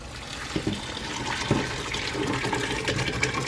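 Noodles and liquid pour and splash steadily into a pan, a continuous wet rush with a few soft clunks, fairly quiet and close.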